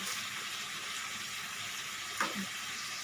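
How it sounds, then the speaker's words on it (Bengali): Vegetables for vegetable rice fry steadily in a pan, giving a constant soft hiss and sizzle with a brief clink near the end, no voices. "এবার এখন আমার দেখো ভাজা ভাজা হয়নি একটু সময় লাগবে একটু ভাজা ভাজা হয়ে যাক"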